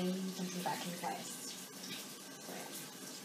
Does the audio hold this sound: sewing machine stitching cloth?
no